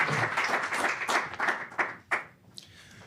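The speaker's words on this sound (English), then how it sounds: "So please join me in giving Ramtin a round of applause." Audience applause at a distinguished lecture, a burst of many hands clapping that thins out into a few scattered last claps.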